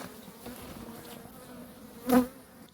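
Honeybees buzz in a hive colony of about five frames, a steady close drone with one louder swell as bees pass near.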